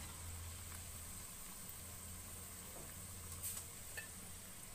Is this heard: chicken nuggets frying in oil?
yes